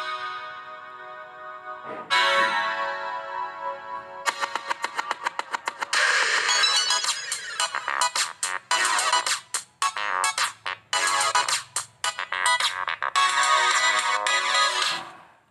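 Music plays from a phone's built-in speaker, heard close and thin: a quiet intro swells into continuous rhythmic playback with crisp ticking beats and tonal melody for about fifteen seconds, with no talking.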